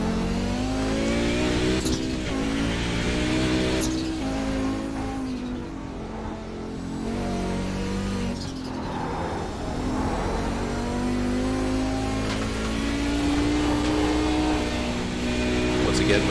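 An Audi 90 GTO race car in a racing video game at Sears Point, its engine revving and climbing through gears with repeated upshifts and throttle lifts, loud and continuous throughout.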